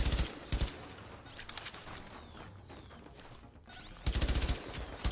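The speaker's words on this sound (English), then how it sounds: "Turrets in this game are quite lethal because they will just continue firing almost non-stop." Turret gunfire in the video game The Division: sustained rapid bursts of automatic fire, loud and near, with dense rattling volleys at the start and again near the end and sharp sweeping mechanical whines in between.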